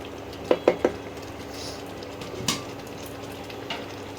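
Afghani chicken being stirred in a pan, with a quick cluster of three utensil scrapes and clinks, a later knock and a faint one, all over a low steady sizzle and with no talking.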